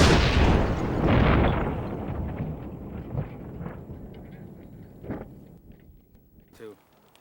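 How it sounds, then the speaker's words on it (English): Small pipe bomb explosion: a loud, heavy boom opens and then decays into a long rumbling tail, with faint scattered debris sounds afterward. "It quickly becomes evident how destructive these small pipe bombs can be."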